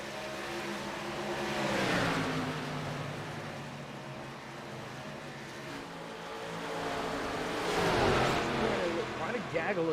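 Race cars in the Dirt 3 racing video game run nose to tail around a virtual Rockingham track, engines swelling and fading as they pass, under steady commentator talk.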